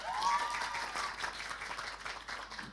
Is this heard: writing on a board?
no